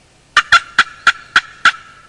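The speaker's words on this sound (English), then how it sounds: "and the gobbler's gobbling, and the hen is cutting back at me" A wild turkey gobbler gobbles six times in quick succession, close and loud, with nothing else heard.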